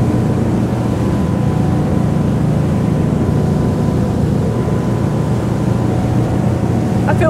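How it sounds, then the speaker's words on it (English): Twin engines drive a 2022 Princess V40 motorboat at speed, near 25 knots and 2,900 rpm, giving a steady, loud low drone with water rush throughout. No voice is heard. "you can feel the engines coming into play there"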